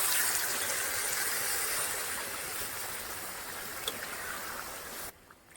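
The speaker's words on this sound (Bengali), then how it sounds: "এবার জল দিয়ে দেবো" Water poured into a pan of chicken kosha, a steady rushing pour that gradually eases off and stops abruptly near the end, close and moderately loud with no talking.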